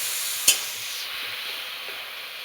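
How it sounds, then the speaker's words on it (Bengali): Taro leaves frying and being stirred in a pan for a village-style Bengali dish, giving a steady close hiss of sizzling throughout with one sharp clack of a spoon against the pan near the start. "ভালোভাবে এইভাবে ভেজে নিলে আটা আটা হবে, ভালো পাতাগুলো ভালো ভাজবে।"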